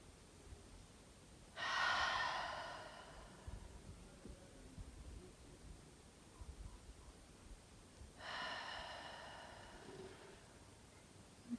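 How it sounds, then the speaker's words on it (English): Two slow, deep breaths during yoga relaxation, each a soft airy exhale lasting about two seconds, separated by a long quiet gap, close and faint. "Take as many cleansing breaths as you can to completely let go of your breath control."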